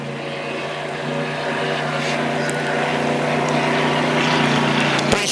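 Racing boat powered by a 2.5 litre Optimax outboard engine during warm-up at the Lake Eppalock Gold Cup, a steady loud droning roar that builds slightly, heard alone with no talk.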